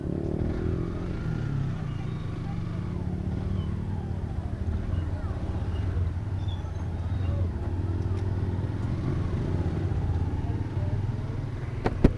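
A fully loaded motorcycle carrying goods from a market rides along with a steady low engine drone and road noise, while people talk over it.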